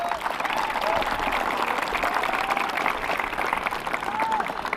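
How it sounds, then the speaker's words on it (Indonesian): Steady applause from an audience at the opening of a school football tournament, clapping for the teachers: dense and continuous, with a few voices and whistle-like tones mixed in. "Tepuk tangan dulu buat asatizah."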